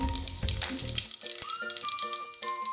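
Whole spices for a pressure-cooker biryani sizzle in hot oil, giving a brief crackling hiss at the start that fades beneath light tonal background sounds.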